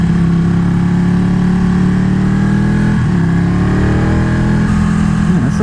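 BMW S1000RR motorcycle engine droning steadily while riding on a street, a loud, continuous close hum with slight shifts in pitch and no voices.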